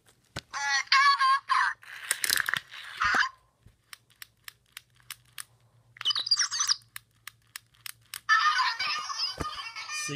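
A Kung Zhu toy army figure passes over the Tablet of Zhu, setting off bursts of electronic chirps and chattering tones with sharp repeated clicks between them and a faint steady hum underneath.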